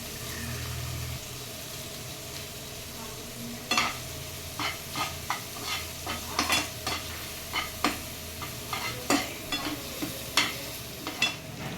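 Chopped green chillies fry in hot oil with a soft, continuous sizzle, broken by a run of sharp stirring scrapes and clinks against the pan at a steady pace, close up and with no talking.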